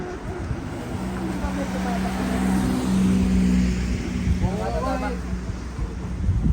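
Car on a residential street in Yamanashi City, Japan, approaching and passing close by, its engine rumble and tire noise swelling then fading, with people talking over it.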